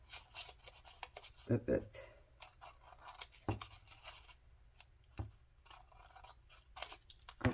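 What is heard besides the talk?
scissors cutting paper for a junk journal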